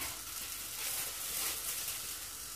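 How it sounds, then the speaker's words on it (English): Wild boar burgers fry gently in a hot frying pan, giving off a steady, even sizzling hiss that stays close and fairly soft throughout. "we've got the frying pan going. We're going to do the burgers first."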